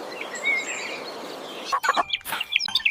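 A cartoon mother hen clucks in a short burst of sharp, close calls over a soft background hum, the clucks coming in quick irregular bursts toward the end.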